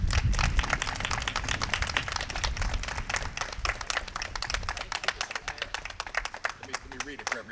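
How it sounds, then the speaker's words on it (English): Audience applause at a mayor's award presentation for Top Box Foods in Aurora: dense, steady clapping from a crowd, loud at first and then slowly thinning over several seconds. "Let's give them a round of applause."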